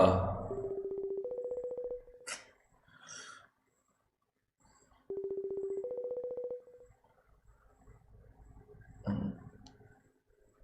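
A Discord call rings while waiting to be picked up, with two short repeated rising tone sequences separated by silence and a few faint clicks and breaths in between. The sound is close and clear.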